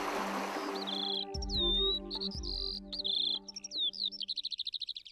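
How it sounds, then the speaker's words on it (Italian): Migratory birds calling at a mountain lake in Abruzzo, Italy: a run of clear, high whistled chirps and trills, some in quick rapid bursts toward the end, heard fairly close over a steady low hum. "Il lago di Scanno diventa luogo di sosta per gli uccelli migratori."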